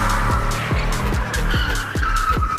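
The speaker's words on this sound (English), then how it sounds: "Now it's time to learn how to do a 180 drift." A car whips through a 180 drift, its tires skidding and squealing loudly up close, with repeated sweeping chirps of rubber over a continuous engine roar.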